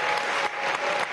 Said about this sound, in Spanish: Vamos a darle un aplauso aún más caluroso a Esmeralda Brown